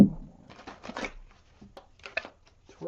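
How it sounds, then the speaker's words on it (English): Tarot cards being shuffled by hand indoors, a run of quick papery riffles and soft slaps in several short bursts, close and clear with no talking. "One more shuffle for Taurus."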